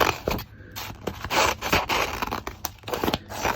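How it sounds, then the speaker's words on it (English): Scissors snip through three stacked sheets of paper in a run of quick crisp cuts and rustling scrapes, close and fairly quiet, with no talk. "So I've got 3 sheets of paper together and I've got my scissors"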